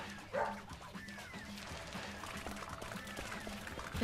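Dog barking in the video game Deadly Premonition, a few quick yips and barks at moderate distance over steady game music and ambience, with no talk.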